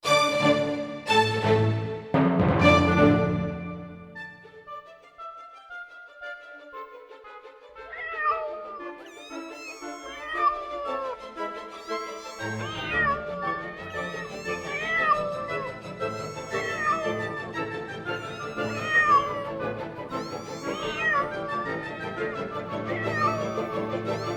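A cat meows repeatedly in a siege tale, a cluster of bright calls rising and falling over a quiet bed, first alone and then denser and overlapping toward the end, close and clear.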